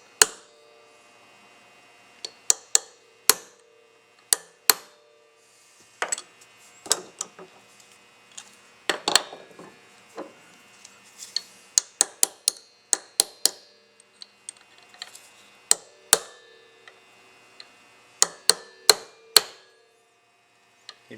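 Sharp metallic hammer blows strike a blunt chisel to dent an AC 6744 Cadillac casting, landing as irregular bursts of single and quick double hits across the whole stretch, close and loud with no talking.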